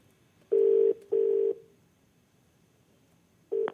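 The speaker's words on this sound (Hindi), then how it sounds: "इनको फोन लगाया जाए कंप्यूटर जी" A telephone call dialed out on a TV quiz show: two long steady ringback tones in succession, then a pause and the start of a third tone, loud and clear with no talk over them.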